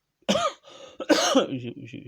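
Two harsh, close coughs in quick succession, the second longer and trailing off into a rough throaty rasp.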